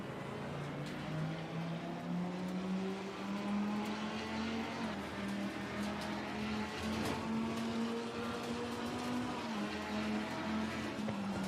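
A race car engine at Zolder in a sim racing game drones steadily at moderate volume, its pitch slowly rising through the gears without a break.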